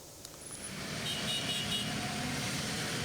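Dense road traffic from motorcyclists heading home after the holiday on the Pantura Cirebon arterial road in West Java, a steady loud engine roar with a brief high horn toot early on.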